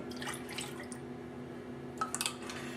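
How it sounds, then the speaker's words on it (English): Eggs and room-temperature milk are poured into a bowl for Yorkshire puddings, a faint liquid splash with a few small drips and plops near the end in a quiet kitchen. "Now I have my eggs and my milk at room temperature. We're just going to go ahead and throw these in this bowl."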